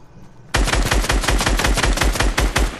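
Rapid automatic gunfire in the video game Fortnite erupts after a brief quiet moment, then continues as loud, dense, rhythmic bursts of shots for the rest of the clip.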